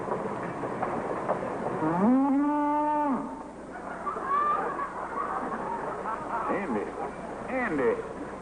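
Cattle moo loudly, one long low call followed by more lowing amid a busy background, with people talking over the herd.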